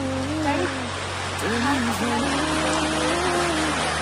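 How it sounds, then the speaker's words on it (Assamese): Heavy rain pours down in Assam, a constant loud hiss of water on surfaces that runs throughout, while people talk over it. "পুৰা বৰষুণ"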